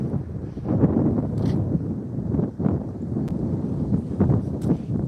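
Strong gusting wind roars across a frozen lake during ice fishing in eastern Pennsylvania, buffeting the microphone with loud, low rumbling surges.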